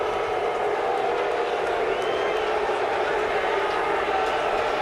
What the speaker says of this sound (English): And you're hearing the crowd in the background.